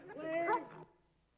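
A police K-9 dog gives a single close, drawn-out whining yelp lasting under a second, then falls quiet.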